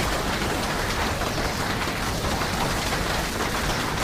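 Steady, dense rain pours down in an even, close hiss with no break, and no distinct thunder clap stands out.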